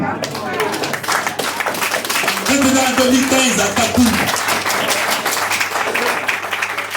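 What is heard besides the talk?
audience applause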